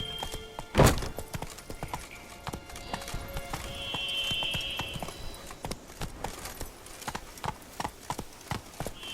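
Horse hooves clip-clopping in a fast, steady rhythm in The Witcher 3: Wild Hunt, Blood and Wine, with a sharp neigh or whinny near the start, loud and close throughout.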